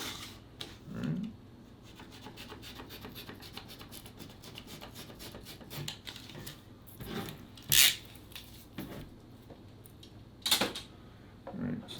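Blade scraping and rasping along the edge of a small 1:48 scale model theater piece to cut a bevel, a steady run of fine strokes broken by a few sharper clicks, close and moderately quiet.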